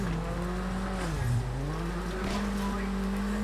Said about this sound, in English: And there is a turbo, as you can hear.